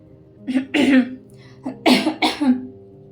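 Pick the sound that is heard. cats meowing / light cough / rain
light cough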